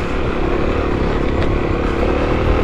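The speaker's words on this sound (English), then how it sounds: "Wow, I'm not used to riding in the snow." Kawasaki KLX250 dirt bike climbing a steep snowy, rocky trail, its single-cylinder engine droning loud and steady up close throughout, with no talking.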